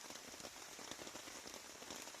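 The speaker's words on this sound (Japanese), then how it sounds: "完全に雨になってしまいました" Rain falls steadily on a campsite sheltered by a tarp, giving a soft, even patter of drops. It is faint and continuous, with no voices.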